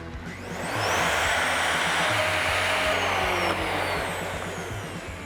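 Another run of the Wen plunge router: the motor quickly rises to a loud, continuous whining roar, holds steady for several seconds, then eases slightly, with no one talking over it.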